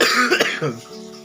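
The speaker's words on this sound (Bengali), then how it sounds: "কাশিটা আমাকে শেষ করে দেবে" A single close cough with a throaty rasp, voiced and short, followed by a brief trailing breath during a family meal.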